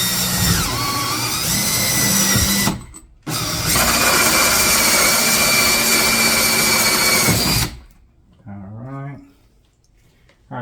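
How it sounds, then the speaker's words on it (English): A power drill whines loudly and steadily while boring a hole in a kayak hull, pausing briefly before resuming its high buzz, then stops as a voice speaks over quieter background. "All right, so we're going to drill our hole"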